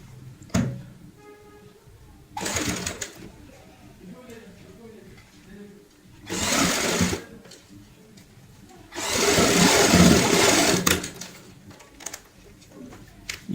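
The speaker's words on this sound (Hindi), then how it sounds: "चाहे आप इसको इस तरीके से सेट करते हुए सिलाई लगा ले" A sewing machine stitching shut the gap in a fabric baby cap, running in three separate bursts of steady motor whir, the last one longest, close by with quiet pauses between.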